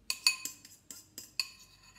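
A spoon stirs a sweetened banana mixture in a bowl, a quick run of about six bright clinks and scrapes against the dish, close and fairly soft with no talking.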